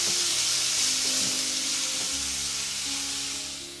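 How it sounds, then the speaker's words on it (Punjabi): Chopped onion sizzles steadily in hot oil as tempering for lauki chana dal, a continuous close frying hiss with faint stirring clinks and no voices. "ਹੁਣ ਤੇ ਪਿਆਜ਼ ਨੂੰ ਨਾ ਆਪਾਂ ਹੁਣ ਥੋੜਾ ਜਿਹਾ ਭੁੰਨ ਲਵਾਂਗੇ"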